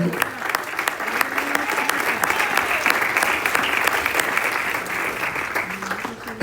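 A church congregation breaks into sustained applause, a dense, steady wash of clapping from a large crowd that holds for several seconds, while a preacher's voice carries faintly over it.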